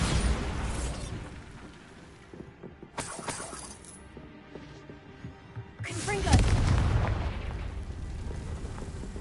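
Explosion spell cast in a Harry Potter video game: loud, close blasts with crackling, shattering debris, one around the third second and a heavier rumbling burst near the end, over steady game background noise.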